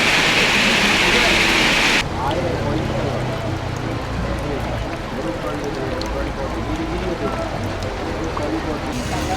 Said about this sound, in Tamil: அந்த இடத்துல மழை பெய்கிறதால